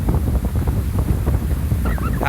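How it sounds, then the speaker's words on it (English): Gusty wind after Hurricane Irma buffets the microphone outdoors at a flooded resort, a loud rumbling roar with rough low-frequency bursts and a brief higher whistle near the end, no voices. "You can hear the wind has picked up again"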